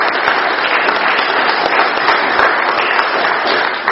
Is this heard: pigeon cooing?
no